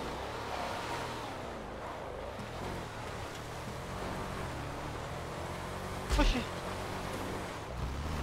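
A car engine labours steadily as it climbs, a constant low rumble with one brief louder thump near the end.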